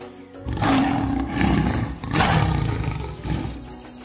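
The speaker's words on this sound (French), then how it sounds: "Ce n'est que le rugissement du lion, le roi de la forêt." A lion gives a long, loud, rumbling roar up close in the jungle. The roar rises and falls in two or three sustained swells and dominates everything else.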